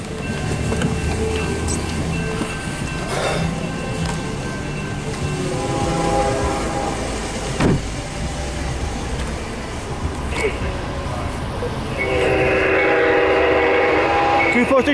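A CSX mixed freight train rolls past with a continuous rumble and clatter of wagons, a long horn-like tone rising loudly near the end.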